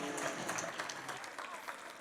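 A church congregation claps steadily throughout for children who have just sung, the applause dense and fairly close, with voices faintly audible underneath.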